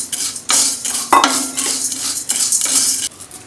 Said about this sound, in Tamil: மிளகு சூடாகிடுச்சு, அப்படியே சீரகம் போட்டுறேன்